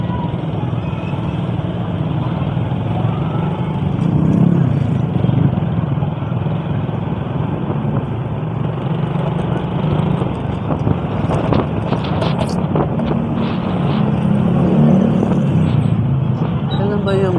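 Steady road traffic with cars and trucks passing on a city street, a continuous engine and tyre rumble that swells and eases, with a louder vehicle going by near the end.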